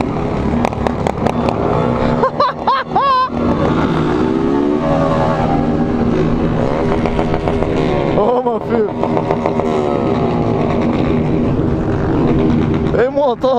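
A large pack of motorcycles, more than a hundred, rides through a street in São Paulo's east zone. Engines drone and rev in a loud, continuous roar with passing surges, while people talk over it.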